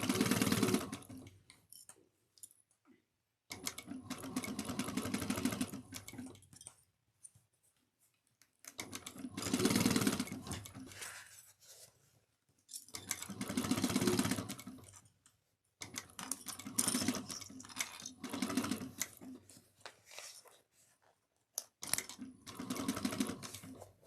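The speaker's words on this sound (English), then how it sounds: "just make sure you're sewing on the gusset and not the actual bag lining piece" A sewing machine stitches a fabric bag gusset in several bursts of rapid, rhythmic needle clatter, close and clear, separated by short silent pauses.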